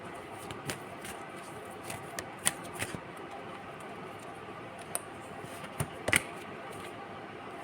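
Tarot cards are shuffled and drawn by hand, giving soft, irregular flicks and sharper snaps scattered across a quiet background, with no voice heard.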